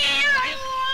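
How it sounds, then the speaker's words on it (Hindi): A cat meows in one drawn-out, close, loud call, its pitch rising and then falling and wavering, with no voices over it. "अरे बिल्ली रास्ता काट गई"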